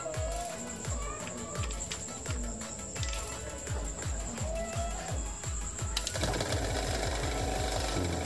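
A washing machine's dryer motor, switched on for a test during a repair, gives a steady mechanical whir and rattle with a rapid rhythmic pulse, loud and close throughout, and the texture shifts slightly partway through.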